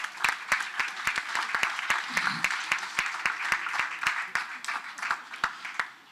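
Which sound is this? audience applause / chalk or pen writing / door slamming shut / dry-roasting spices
audience applause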